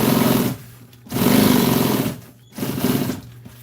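Sewing machine running in three loud bursts of rapid mechanical stitching with short pauses between, top-stitching upholstery on an old military jeep seat.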